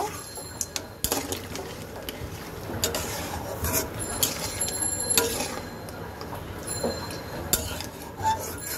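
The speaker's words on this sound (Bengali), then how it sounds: "এখন আমি নেড়ে দেব" Mutton curry is stirred in a cooking pot with a utensil, giving irregular scraping and sharp metallic clinks against the pot, close and fairly loud.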